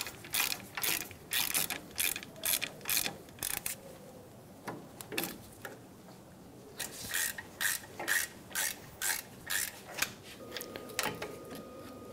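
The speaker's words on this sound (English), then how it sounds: "Using a 7 millimeter hex bit, we're going to remove the caliper" A ratchet fitted with a 7 mm hex bit clicks in quick bursts while removing brake caliper bolts on a Ford Expedition, close-up rapid pawl ratcheting in repeated strokes with a brief pause midway.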